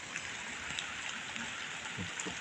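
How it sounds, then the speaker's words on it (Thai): Steady rain falls on a Thai strawberry farm during picking, a dense continuous patter with scattered nearer drops tapping close by, and no talk. "ฝนตก ฝนตก"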